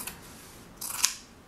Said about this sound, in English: Put your scissors into that fold and just start cutting